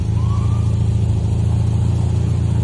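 A Volvo 940 driving along gives a steady, loud low engine drone with constant road and cabin rumble, no revving peaks, throughout.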